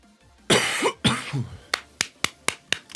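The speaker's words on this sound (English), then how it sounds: "that fucking cough's come back" A man gaming at home coughs twice in harsh, close bursts, followed by a series of short, sharp clicks or taps at an even pace.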